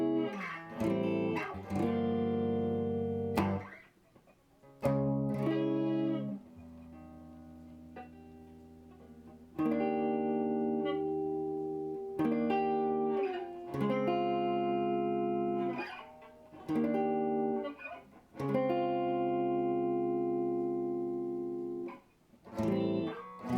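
Electric guitar played through a restored 1965 Gibson Skylark tube amp at a low, clean setting rings out in loud strummed chords and single notes, with sustained tones and brief pauses between phrases.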